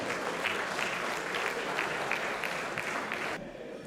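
A crowd at an awards dinner claps steadily in sustained applause, dense and even, fading slightly at the very end.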